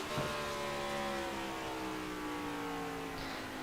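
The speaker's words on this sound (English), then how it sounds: "Kyle Heath definitely running a little bit harder with the gas pedal." A race car engine in a racing video game holds a steady, high-revving drone, loud and continuous, with steady harmonic whine and no talk over it.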